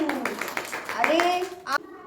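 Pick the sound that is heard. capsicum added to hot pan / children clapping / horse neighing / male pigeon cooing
children clapping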